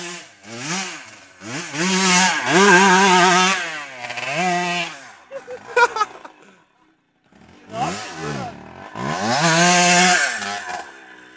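An ATV engine labors uphill, revving hard in rising, straining surges that drop away and then climb again, loud and close throughout.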